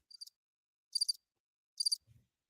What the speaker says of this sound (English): Here you go with the Crickets.